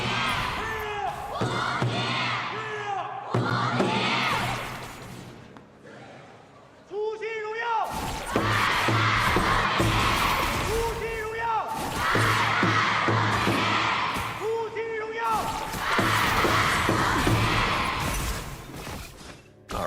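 Esports arena crowd at an Honor of Kings Challenger Cup knockout match chanting and shouting for their team, loud rhythmic waves of massed voices rising and falling across the whole stretch, with brief quieter dips between surges.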